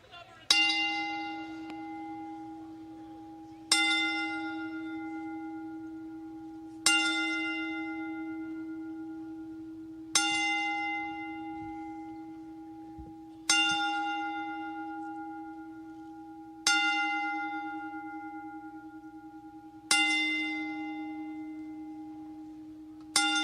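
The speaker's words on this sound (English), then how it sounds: "please rise as we toll the bell 10 times." A single bell tolls for a ceremonial tribute, struck slowly and evenly about every three seconds, eight strikes here, each with a bright clang fading into a long humming ring that carries into the next.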